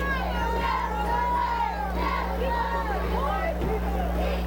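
A Moline high school football crowd roars after a ball carrier breaks off a long run: dense, sustained cheering and shouting from many voices across the stands, with a steady low hum underneath.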